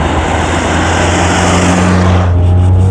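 A Rover 111i on skinny tyres is flung around a wet corner, with steady loud engine drone and road roar inside the cabin. The noise eases slightly toward the end.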